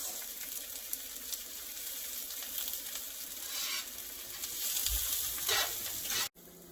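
Mushrooms sautéing in a skillet, a steady close sizzle with occasional stirring scrapes that swell briefly before a sudden cut near the end.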